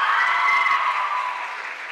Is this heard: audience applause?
yes